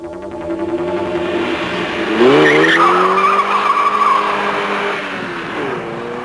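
A hot hatch such as a Peugeot 205 GTI, Golf GTI, Ford Escort XR3i or Alfasud TI launching hard from a standstill on a test track, the engine rising loud and close through the revs, then a gearshift and renewed pull.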